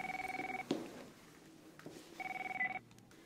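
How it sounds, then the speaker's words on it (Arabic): A landline telephone rings in two bursts of repeated electronic trills, clear and fairly close, with a short gap and a faint clunk between them in a quiet indoor scene. "ما بين حدا يرد على التليفون"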